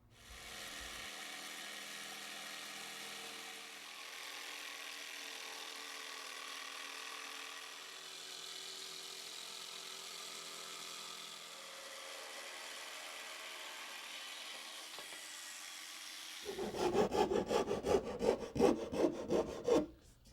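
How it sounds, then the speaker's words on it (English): Jigsaw cutting a curved shape in a mahogany plywood panel in a woodworking shop, heard as a sustained buzzing saw tone for most of the clip, ending with a louder, rhythmic rasping chatter. "Then we can come back with a jigsaw and cut it out."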